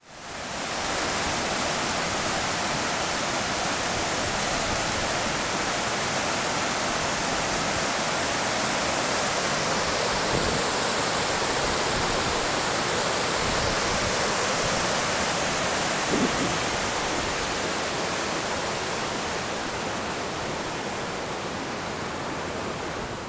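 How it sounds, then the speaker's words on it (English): Otter Falls in Yukon Territory roars nearby, a dense continuous rushing of water, loud and unchanging for the whole stretch with no voices. "And the falls are in the background."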